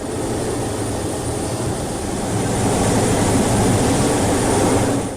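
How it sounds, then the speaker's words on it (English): An F/A-18 jet's dual engines roaring during a low pass over Afghanistan, a loud, dense, continuous roar that swells slightly louder midway and holds steady, with no voices. "The roar of the aircraft's dual engines was intended to warn away Taliban fighters"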